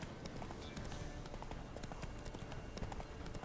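A horse's hooves clip-clop at a steady riding pace in The Witcher 3 video game, the quick, fairly quiet footfalls continuing evenly throughout.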